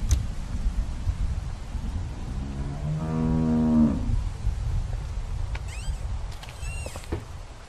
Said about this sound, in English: How do you like that cow, Clem